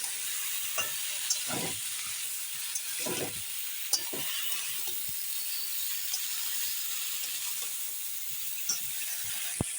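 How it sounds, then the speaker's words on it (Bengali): Spices, salt and turmeric being stirred in a frying pan while preparing a pumpkin-shoot curry, a steady soft sizzle with scattered scraping strokes of the spoon and small clicks, fairly close and with no talk. "এখন আমি একটু ভালো করে নেড়ে নেব"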